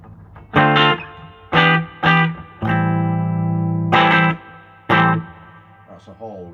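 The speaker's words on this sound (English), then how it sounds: "That's a Hall reverb." Electric guitar run through a hall reverb pedal, playing a handful of distorted chords and notes in separate bursts, one long sustained chord in the middle, with long reverb trails ringing out after each hit.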